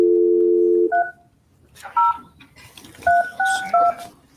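Telephone keypad dialing a special master's number during a Florida criminal court hearing: one long dual tone, then a short pair and a quick run of three or four crisp dual-tone beeps, with faint room noise between.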